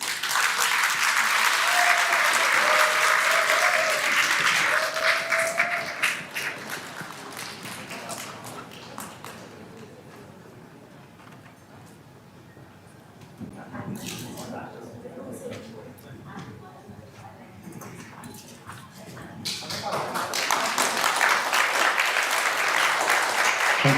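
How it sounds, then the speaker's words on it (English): Audience applause for the 2024 and 2025 C Right Award winners at an ASEAN awards ceremony: loud, dense clapping that fades to quieter scattered claps and murmuring, with a voice speaking over it, before swelling back to full applause. "please give a big round of applause to all the awardees for the C Right Award winners of 2024 and 2025"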